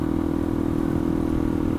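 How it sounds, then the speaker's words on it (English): A Yamaha XT250 motorcycle with an aftermarket open-flow DG exhaust runs close and loud, giving a steady, throbbing engine drone with a rapid, even pulse and no voices. "I'm also not the biggest fan of this open flow DG exhaust."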